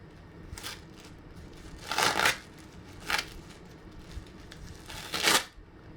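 Soft plastic crinkling and rustling of a period pad wrapper being opened in a few short bursts, close by and fairly quiet, with the loudest crackles near the middle and end.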